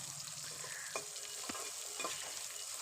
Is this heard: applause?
no